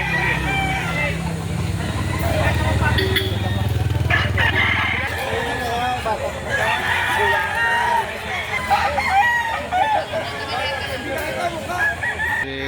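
Rooster crowing amid a busy chicken sale in Lipa City, Batangas, its call rising over crowd chatter, clucking fowl and a passing motorcycle, with people talking throughout.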